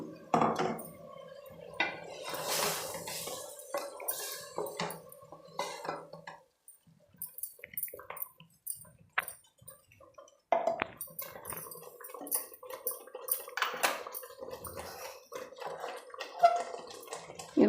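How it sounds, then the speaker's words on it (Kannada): Water is poured into a washed mixer grinder jar in a home kitchen, heard as intermittent close splashing and pouring bursts mixed with light clinks of utensils, with a quieter pause midway and no talking. "ಈಗ ಮಿಕ್ಸಿ ಜಾರ್ ತೊಳೆದು ಸ್ವಲ್ಪ ನೀರು ಹಾಕ್ತೀನಿ"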